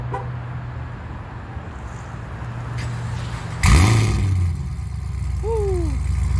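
Car engine idling after a GPI Circle D transmission rebuild, a low steady rumble that swells suddenly partway through as the engine is revved, then settles back, heard close with no talking.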